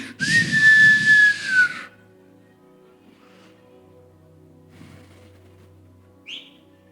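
A person whistles a bird-like tune loudly and close for about two seconds with a bright sustained pitch that glides slightly, then near-quiet room noise follows with a brief faint chirp near the end.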